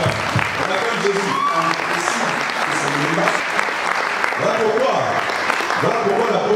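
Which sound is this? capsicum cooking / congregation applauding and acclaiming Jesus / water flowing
congregation applauding and acclaiming Jesus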